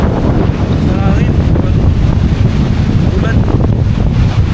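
Strong wind buffets the microphone while car camping in a Suzuki minivan beside the West Philippine Sea, a loud, continuous roar with gusting rumble throughout and faint voices underneath.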